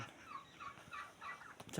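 Faint poultry calls, clucks and gobble-like sounds, drift through the background, softly repeated over a low ambient hiss.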